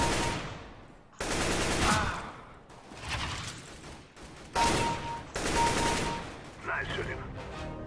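Video game gunfire during bot practice, with rapid automatic bursts in several loud, close volleys separated by short pauses and a few whooshing and mechanical sounds between them.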